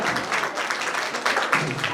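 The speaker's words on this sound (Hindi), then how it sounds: "जोरदार तालियां" An audience at a stage drama performance in Chennai claps energetically, a dense continuous burst of applause filling the short stretch with no talk.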